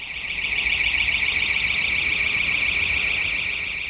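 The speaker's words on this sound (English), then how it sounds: "the alarm from the house 3 doors down, someone's tripped it" A loud, shrill house alarm from a few doors down rings as one steady, unbroken high tone, with no pauses or voices.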